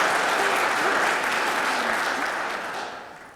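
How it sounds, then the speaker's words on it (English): Audience applause at an MLK Day community event against hate, a steady full clapping that fills the room and tapers gradually toward the end. "I see people about to applaud. You should applaud."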